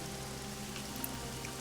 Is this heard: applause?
no